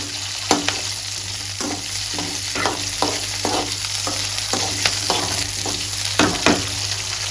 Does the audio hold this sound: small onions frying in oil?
yes